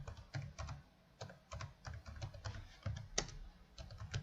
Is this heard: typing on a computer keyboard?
yes